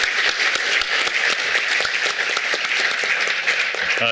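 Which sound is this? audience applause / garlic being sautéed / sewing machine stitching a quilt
audience applause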